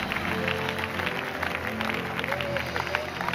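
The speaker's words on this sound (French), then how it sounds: "Là, maintenant, tu peux applaudir." A church congregation claps and murmurs during a sermon, a diffuse wash of crowd applause with voices mixed in.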